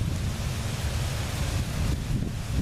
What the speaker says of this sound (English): It's windy and the leaves are blowing